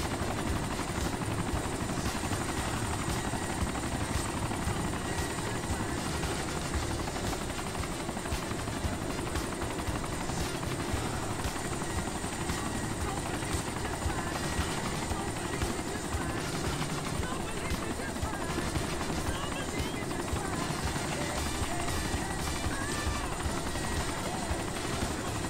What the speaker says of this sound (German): ich habe ein Heli geliefert bekommen